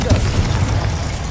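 A Confringo spell explosion in a Harry Potter video game lands as a dense low boom with a rumbling burst, loud and close, briefly mixed with mechanical clatter.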